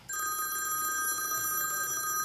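A telephone rings close by with a steady, bright electronic trill that starts abruptly and keeps going without a break for over two seconds, with faint background noise.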